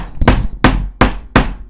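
A phone is smashed with a big, heavy tool: five hard, evenly spaced blows land close and loud, each a sharp crack with a brief ringing decay.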